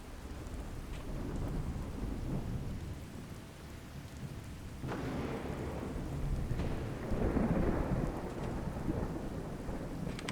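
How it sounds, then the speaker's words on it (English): Loud rolling thunder over steady rain in a modded Fallout 4 storm, with a deep rumble building and swelling twice through the steady downpour hiss. "Love how loud the thunder is."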